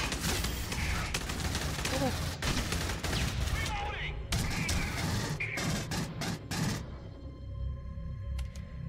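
Gunfire in the video game Aliens Colonial Marines, made of dense bursts and sharp impacts that run through the first seven seconds, loud and close, with talk over the action before it cuts to quieter ambience.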